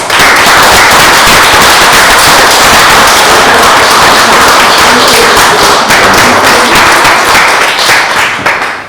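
Loud, sustained applause from an audience greeting new British citizens at a 2019 citizenship ceremony in Dudley, UK, dense and steady clapping filling the room throughout without speech.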